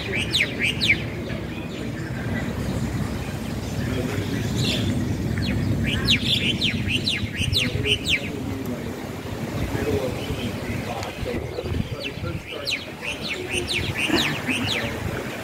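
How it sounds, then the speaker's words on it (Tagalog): Repeated chirps and calls from a bird on a post at the seaside ring out over steady wind and low rumbling, with someone talking intermittently throughout. "Yan na ibon. Isang ibon"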